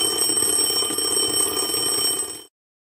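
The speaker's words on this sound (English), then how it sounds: "So poets, you do not want the dreaded times up animation to play." A times-up animation alarm from an online poetry slam league plays alone: a loud, continuous ringing alarm-clock bell with steady high tones, running for about two and a half seconds before cutting off abruptly.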